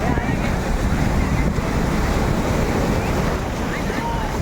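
Sea waves wash steadily against the shore at Shrivardhan during a Narali Purnima coconut offering, a continuous broad surf roar mixed with wind buffeting the microphone, with no clear talk.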